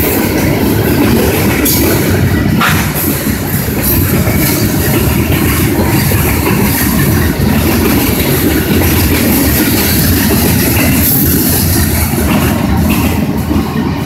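Two freight trains running in opposite directions pass a level crossing on Sharon Road, producing a dense, unbroken roar of rolling wheels and clattering cars very close and loud throughout.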